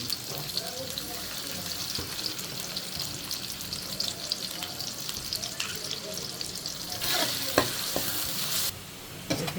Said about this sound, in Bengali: পেঁয়াজটা আগে ভেজে বেরেস্তা করে নিই তেল গরম হয়ে গেছে পেঁয়াজ দিলাম